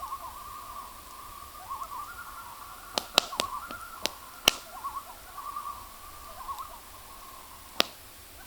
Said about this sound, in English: those loons are just beautiful.